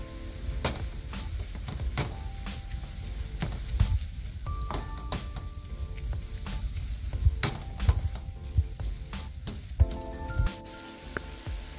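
Chicken fried rice is stir-fried with soy sauce, tomato ketchup and chili sauce, giving a continuous close sizzle broken by frequent sharp clacks and scrapes of a utensil tossing and mixing in the pan.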